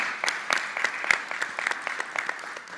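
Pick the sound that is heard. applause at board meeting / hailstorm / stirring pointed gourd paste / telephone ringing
applause at board meeting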